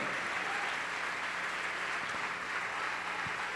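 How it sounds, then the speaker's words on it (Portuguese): Church congregation clapping together during a worship service, a steady dense wash of applause filling the room for a few seconds without pause. "Vamos aplaudir mais ao nome do Senhor."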